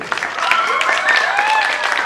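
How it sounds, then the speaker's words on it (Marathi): An audience at a Mallakhamb competition at a Pune festival claps with a dense, even burst of applause that holds steady for a couple of seconds. "जोरदार टाळ्या वाजवून आपण या खेळाडूंचं कौतुक करायचंय."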